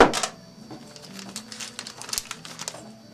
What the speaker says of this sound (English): I'm going to take these pieces of chain that I cut, drop them through the hole,